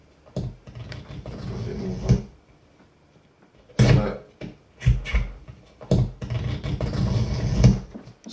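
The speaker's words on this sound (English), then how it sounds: "so basically that's the sound of the gaffer tape being recorded." Strips of gaffer tape pulled off the roll close to a condenser microphone, a series of short tearing, ripping bursts separated by brief pauses, recorded dry and close with strong low-end body.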